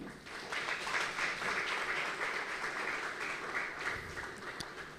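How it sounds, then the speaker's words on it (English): Audience applause after a public university lecture, steady dense clapping filling the room for the whole stretch at moderate level, with no speech over it. "should we give a clap?"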